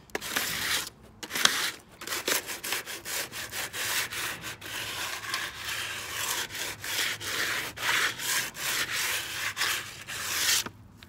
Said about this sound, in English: So what you would need to do first is a light sanding.